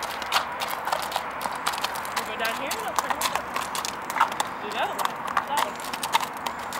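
Hooves of a ridden horse clip-clop in a steady rhythmic beat on the ground while people talk nearby, the steps moderately close and regular.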